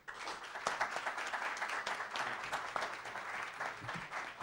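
An audience at a book presentation applauds a presenter, steady mid-distance clapping from many hands that carries on throughout without a break.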